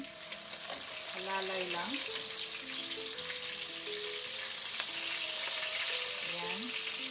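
Tortang dilis, an anchovy omelette, crackling steadily in a pan of oil in a home kitchen, a soft continuous sizzle under a woman's brief quiet remark, with faint background music tones running through.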